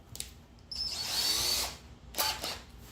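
A close power drill spins up in a short high whine, biting briefly into a metal camshaft journal at an angle, then a second quick burst follows after a pause.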